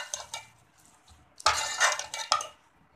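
Minced keema is stirred and roasted in a pan, with a few close scraping and clinking strokes of a spoon against metal, separated by quiet gaps and a faint sizzle.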